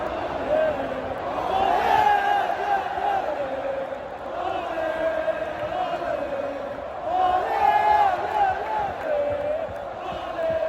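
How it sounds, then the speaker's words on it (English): A wrestling arena crowd at a King and Queen of the Ring event roars and cheers in sustained swelling waves, with shouts and whoops standing out from the din. "the crowd is going wild."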